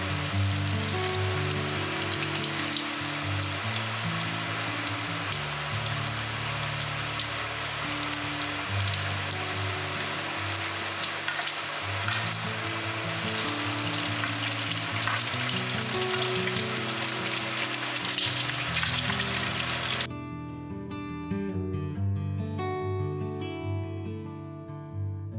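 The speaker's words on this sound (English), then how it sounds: "I let these sweet potatoes kind of saute here in this bacon grease for about 10 minutes" Sweet potatoes sizzle and fry steadily in hot bacon grease in a pan, a dense, continuous crackle heard up close, with no talking.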